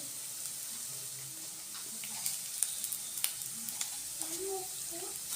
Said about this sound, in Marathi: हे पण आता त्यांचं परतून घ्यायचं म्हणजे गरममध्येच आपलं जिरं पण छान फुलतं आहे